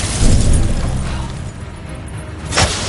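Incendio fire spell cast in Hogwarts Legacy: a loud fiery burst at the start that fades to a roar, then a sharp flare of noise near the end, with no voices.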